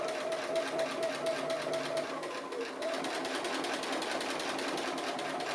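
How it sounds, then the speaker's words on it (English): A sewing machine does free-motion straight stitching close to the edge of an appliqué, giving a continuous, close, rapid whirring hum with a faint dip in the middle. "I'm just doing a free motion straight stitch on the applique just near the edge."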